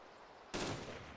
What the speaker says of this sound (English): I hear a shot